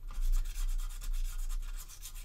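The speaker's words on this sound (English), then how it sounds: "right now I'm just kind of sanding" Hand sanding of resin model kit parts, smoothing the seam where two headcrest pieces of a Xenomorph Queen figure meet; steady close rasping strokes repeat without a break and no one speaks.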